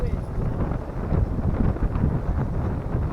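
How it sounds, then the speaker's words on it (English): Wind buffets a microphone outdoors at a survival fire-starting spot, a loud, low, continuous rumble that fills the whole stretch, with faint voices underneath. "What the hell is with the wind?"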